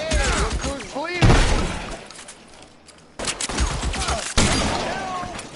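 Gunfire and shattering glass crack through a shootout in LA Noire, loud volleys in two bursts separated by a quieter pause, with shouted voices over the shots.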